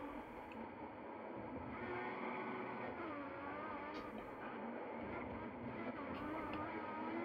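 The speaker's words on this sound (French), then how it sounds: "On les entend vachement bien, les coups de frein, les dérapages sur le circuit." Racing car engine in F1 2014 on the Singapore street circuit, a steady loud drone with shifting pitch and brief squeal-like bursts from braking and tyre skids, no talk over it.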